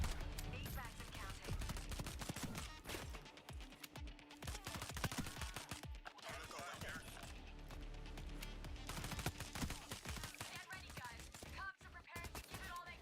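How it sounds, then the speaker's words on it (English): Sniper rifle and other gunfire in Payday 3 during an FBI assault, a long stretch of rapid, sharp shots and impacts with quieter, echoing cracks scattered through a busy firefight. "Actually, hear sniper shoot."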